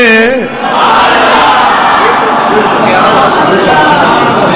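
A large crowd at a Milad procession honouring the Prophet Muhammad chants religious slogans, a loud, dense roar of many voices sustained throughout after a brief single voice at the start.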